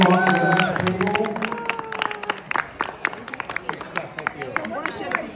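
An audience at a tribe-building workshop session clapping and applauding, a burst of dense claps that tapers into scattered claps, with people talking and chattering over it.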